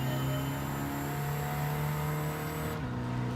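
A Mercedes-Benz Unimog truck's small low-power diesel engine drones and revs steadily in Gran Turismo 7, a continuous mid-level hum that drops pitch near the end as the revs ease off.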